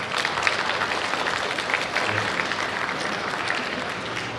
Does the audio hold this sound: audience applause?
yes